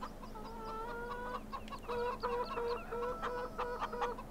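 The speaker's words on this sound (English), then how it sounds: "The chickens are at the main farmhouse as well." Chickens on the Orchard Farm game's main farmhouse grounds cluck in repeated short bursts, several birds close by and fairly loud, layered over a low steady background hum.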